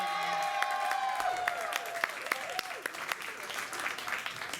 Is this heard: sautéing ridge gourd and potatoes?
no